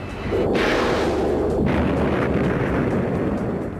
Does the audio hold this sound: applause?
no